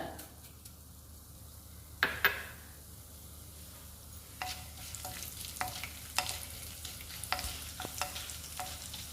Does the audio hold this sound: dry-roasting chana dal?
yes